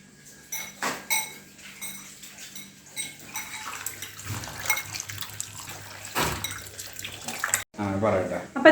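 Potatoes being washed in cold water in a kitchen: intermittent splashing and knocking of vegetables and a pot, with running water near the end and quiet talk in the background.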